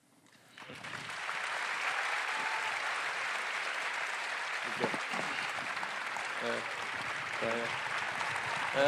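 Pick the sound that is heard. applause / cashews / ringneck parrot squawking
applause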